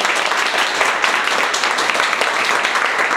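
Dense, steady applause from a crowd, loud and continuous throughout with no pauses.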